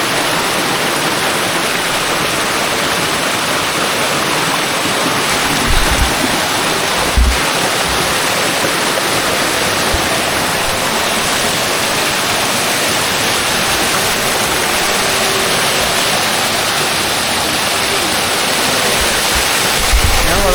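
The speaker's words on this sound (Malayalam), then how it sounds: "ഓ എന്നാ വെള്ളച്ചാട്ടാ" A waterfall near a cave in Chikmagalur roars with a dense, unbroken rush of falling water, loud and close, holding steady throughout.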